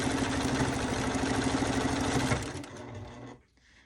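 A sewing machine stitches quilt pieces in a fast, even mechanical whir, running steadily close up for over two seconds before slowing and stopping.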